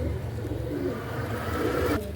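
Pigeons of a fancy breed cooing in a loft, a continuous low murmuring drone of many birds close by, with no voices over it.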